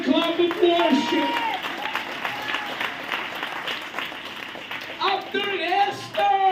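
A church congregation gives a hand clap of worship during an Easter-season service, broad clapping running throughout with singing or raised voices layered over it and swelling again near the end.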